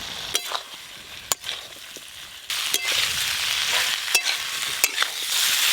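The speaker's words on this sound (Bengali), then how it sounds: "এবার ভেজে রাখা আলু ফুলকপি দিয়ে দেব।" Fried potatoes and cauliflower are tossed into a pan of sizzling spices, tomato and salt. A steady frying hiss runs under repeated scraping strokes of a spatula, close and continuous.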